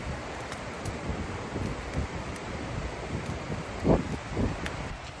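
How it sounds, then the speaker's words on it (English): Strong wind gusts buffet a tent at a cold backpacking campsite, a steady blustery rush with swelling surges and rustling flaps close to the microphone, with no speech. "It's super windy"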